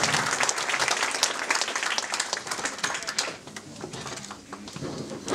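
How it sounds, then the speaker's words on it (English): A crowd at a company kickoff event in Sweden applauds, with steady, dense clapping that continues throughout and softens slightly toward the end. "let's give them one more big applause"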